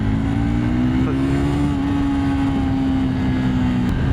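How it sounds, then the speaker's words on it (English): A Triumph Thruxton 400 single-cylinder motorcycle pulls through a corner in second gear, its engine tone rising steadily and loud close by, with wind rush over the top and a voice talking underneath. "You stick it down in second, glide it through the corner, and watch it just pick up speed."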